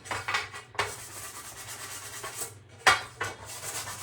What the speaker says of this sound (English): Just wanna scuff it all up.